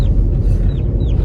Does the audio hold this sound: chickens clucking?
yes